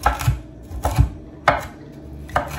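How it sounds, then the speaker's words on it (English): A chef's knife chops broccoli on a board in four sharp, separate thunks spaced unevenly, close and clear with no talking. "having a good chef's knife makes all the difference in the world. You slice up much quicker."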